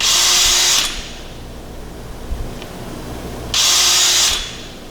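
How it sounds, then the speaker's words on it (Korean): A Bosch drill running with a hole saw whirs loudly, then abruptly cuts out as its kickback control stops it; after a quiet pause with small clicks, the motor spins up again for about a second before halting once more. "킥백 컨트롤이라고 타공을 하다가 돌아가면 이렇게 바로 즉각적으로 멈추는 거"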